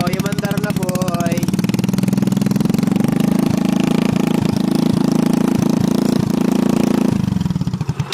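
A motorcycle engine runs again after a repair, idling close by with a rough, rapid chugging and a few sharper knocks, then easing down near the end. A voice speaks over the start.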